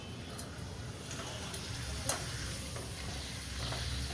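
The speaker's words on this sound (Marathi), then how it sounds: "आपण आता तळून बघूयात पापड" A homemade urad and moong dal papad fries in oil, giving a soft, steady sizzling hiss with occasional faint crackling ticks. It is fairly quiet and no one speaks.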